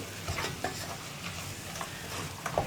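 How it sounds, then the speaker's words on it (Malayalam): Garam masala and spices are stirred in a pressure cooker for egg biryani, giving a steady close sizzle broken by repeated scraping stir strokes. "ഇതെല്ലാം ചേർത്ത് നന്നായിട്ടൊന്ന് ഇളക്കി ഇനി പൊടികളൊന്ന് കുക്കായി വരണം"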